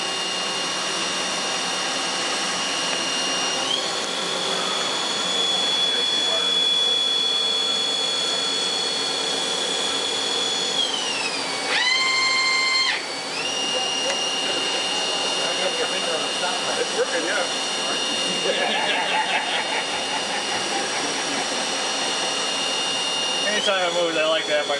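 A CNC mill with a fourth axis cuts a rectangular pocket, giving a loud, sustained high whine under the spindle's hum. The pitch dips and shifts partway through, and some background talk can be heard.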